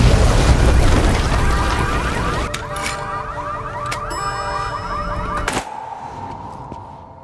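A loud, rumbling bomb blast in a film fades gradually, followed by clanking, mechanical alarm-like tones and debris sounds before an abrupt drop.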